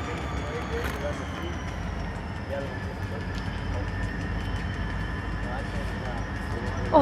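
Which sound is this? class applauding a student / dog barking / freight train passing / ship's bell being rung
freight train passing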